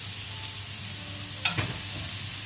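Calamari wings cook on a hot grill with a steady, fairly loud sizzling hiss, broken by one brief scrape or clatter midway, no voices.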